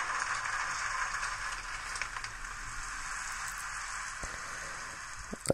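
Steady soft rain patter with scattered tiny droplet ticks, evenly continuous throughout, a weather animation sound effect on an HTC Desire S phone running Sense 3.0.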